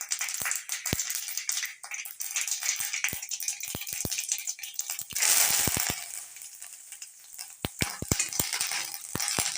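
Mustard seeds and asafoetida sizzle in hot oil, a bright crackling hiss dotted with many sharp pops and ticks as the seeds burst, swelling briefly louder midway.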